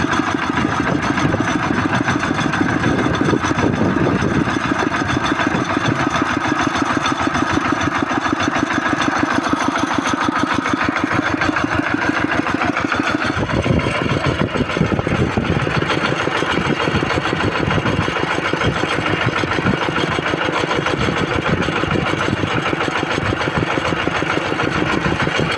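A tractor's engine, its neck newly adjusted, runs steadily in a rice field, a continuous close, loud mid-pitched chugging that shifts slightly in tone partway through.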